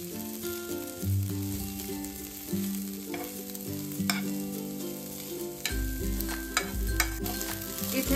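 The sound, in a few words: soaked poha sautéed in ghee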